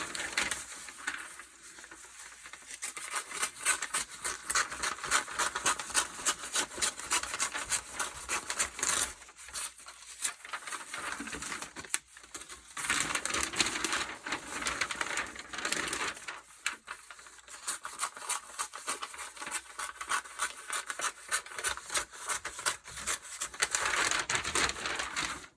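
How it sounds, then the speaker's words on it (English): Scissors cut newsprint into strips, a close run of crisp snips and paper rustles in quick irregular bursts, with short pauses between cuts. "I'm going to cut off the edge."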